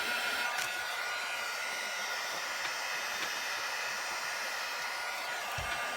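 A hair dryer blows over a journal page, a loud, steady whooshing roar that runs unbroken from start to finish, with a brief thump near the end.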